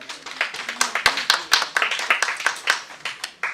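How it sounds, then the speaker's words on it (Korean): A small lecture-hall audience claps at a Korean academy class as a participant is called to the front, the sparse, uneven handclaps loud and close, continuing steadily for several seconds with no talk over them. "박수 한번 보내주세요"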